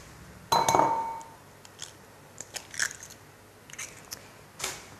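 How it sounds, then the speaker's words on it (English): Eggs lightly beaten in a bowl, heard as a few close clinks and taps against the dish, one louder scraping strike first, then scattered softer knocks with quiet gaps and no voices. "we just beat the eggs lightly"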